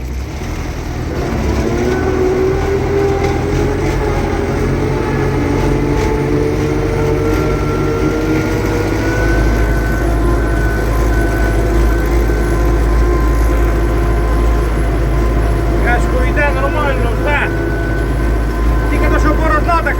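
A tractor ploughs a field after the combine ahead of snow, its engine droning steadily and loudly throughout with low rumble and cab rattle, a lower tone entering partway through.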